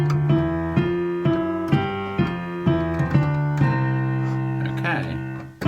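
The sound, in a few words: boogie woogie piano riff played faster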